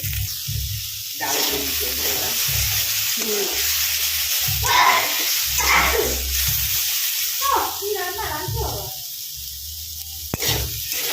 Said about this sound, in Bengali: আদা বাটা আর জিরে গুঁড়ো দিলাম আর হলুদ এরপরে নুন মিষ্টি দিয়ে দেবো এটা ভালো করে সাঁতলে নিয়ে